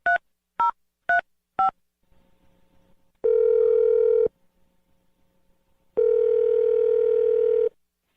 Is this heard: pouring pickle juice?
no